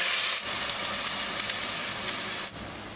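Ground onion, ginger and garlic paste frying in hot oil for a Tamil chicken kulambu, a dense, steady crackling sizzle, loud and close, with no talking.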